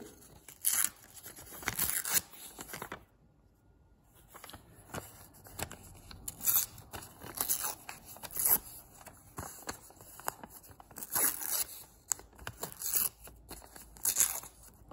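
Paper torn by hand in short, crisp rips, several bursts spaced across the stretch with brief pauses between, close and fairly quiet with no talking.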